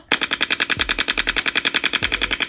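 A voice imitates machine gun fire, producing a rapid, steady stream of percussive bursts for about two and a half seconds with a couple of low thumps mixed in, close and fairly loud.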